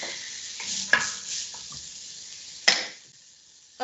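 Onion frying in a soup pan, with a soft continuous sizzle and a few sharp clatters of stirring or utensil knocks, close and moderately quiet.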